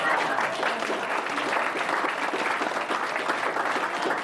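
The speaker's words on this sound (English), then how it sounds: "Hold your applause." A seated audience at a 50th anniversary party claps in steady, dense applause that holds at an even level for about four seconds without building or fading.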